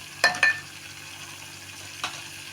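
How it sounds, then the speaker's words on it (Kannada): A pot of vegetable sambar boils on the stove, its oil separated on top, giving a steady low bubbling hiss up close, broken by a few sharp clinks near the start and once more later. "ಈಗ ನೋಡಿ ಇದು ತಾಯಿ ನೋಡಿ ಹೇಗೆ ಕುದೀತಾ ಇದೆ ಅಂತ ಚೆನ್ನಾಗಿ ಕುದ್ದು ಎಣ್ಣೆ ಎಲ್ಲ ಬಿಟ್ಕೊಂಡಿದೆ"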